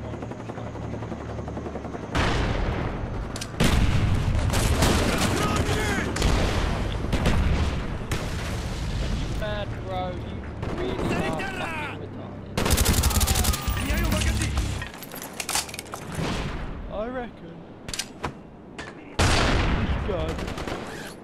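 Gunfire in Call of Duty Black Ops on PC: repeated loud automatic bursts and single shots in a multiplayer match, with booms, helicopter noise and in-game voice callouts scattered throughout.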